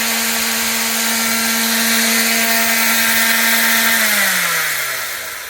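A Mopar sander with several years of use running steadily, a loud, even motor whine with a constant pitch, held close, then spinning down toward the end.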